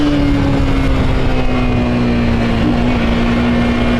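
A carbureted Honda Titan 150 motorcycle fitted with a GS310 exhaust, running without the intake hose, holds a loud steady drone with a gradually sinking tone, close and continuous for the whole stretch.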